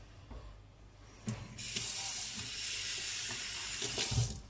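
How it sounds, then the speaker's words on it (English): Anise is rinsed under a running kitchen tap, a steady close hiss of water splashing into a sink that swells on after a brief click and continues alone to the end. "You take it to the water and just rinse it."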